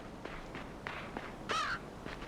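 A bird caws in the dark side-scrolling video game Limbo, one clear cry rising above soft rhythmic footsteps and quiet game ambience.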